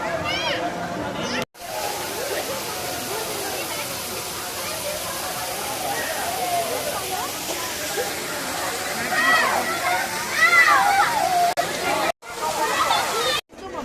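Water splashes and sloshes in the temple pond at Kapila Theertham, a continuous rushing wash with voices and crowd chatter mixed in, briefly cut by a few abrupt gaps.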